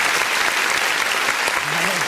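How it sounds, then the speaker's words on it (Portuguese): Church congregation applauding during a worship service, a dense, loud wash of continuous clapping throughout with a faint voice underneath. "Vamos aplaudir em nome de Jesus."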